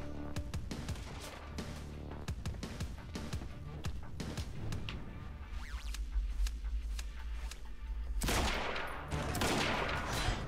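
Dense, continuous gunfire in the video game Quantum Break, with rapid overlapping shots and bursts during a fight against snipers, steady and unbroken throughout with a louder crackling surge near the end.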